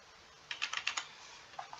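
Quick light typing on a computer keyboard while a name is entered into an online visa application form: a short burst of close, soft keystrokes, then a few more taps, faint and alone.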